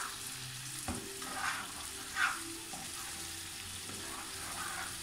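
Butter cooking in a pan for a tarte tatin gives a steady soft sizzle and bubbling hiss with faint scraping and a small clink, continuous and fairly quiet throughout.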